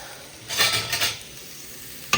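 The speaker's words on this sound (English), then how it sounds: "So I'm gonna saute onion, cilantro, radish" Onion sautéed in a pan with a spatula, stirred in two brief scraping, sizzling bursts, then a quiet pause and a sharp clink near the end; close and fairly soft.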